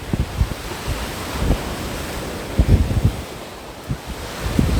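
Baltic Sea surf at Yantarny in Kaliningrad: a continuous wash of breaking waves with buffeting wind rumble on the microphone and repeated low thumps.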